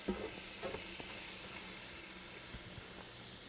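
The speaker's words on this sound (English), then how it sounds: "Now I'm going to add 1 medium yellow onion, finely chopped, and stir." Chopped yellow onion frying in melted butter over medium heat, a steady close sizzle with soft scraping strokes of a stirring utensil against the pan.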